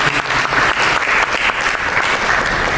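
Loud, dense applause from a large church congregation during a sermon claps steadily throughout, with no break or talking.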